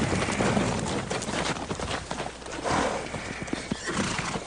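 Cavalry horses arrive at a gallop in a Western setting, a busy clatter of many hooves with loud neighs and whinnies rising over the thundering rush.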